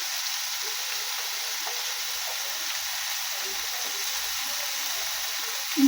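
Turmeric powder and salt sizzle in a pan for a fig curry, a steady close hiss that holds evenly throughout with no talking.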